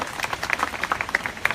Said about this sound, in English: maybe we can woo or cheer or clap